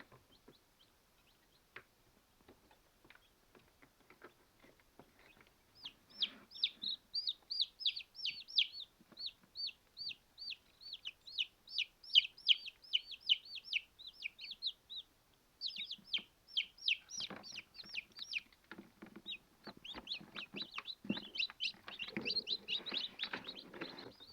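Newly hatching chicks peep in a dense run of high, thin chirps that start after a quiet stretch and continue almost nonstop, close and soft, with scattered faint tapping and rustling underneath.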